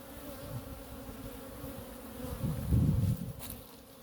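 Honeybees leaving a sun-warmed hive on a winter day, a soft continuous buzzing hum with a closer swell of wingbeats passing near, no speech.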